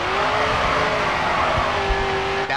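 A car drifts through a corner in the racing game Grid 2, its engine holding a steady high drone with a faint tyre scrub underneath, continuous and close throughout.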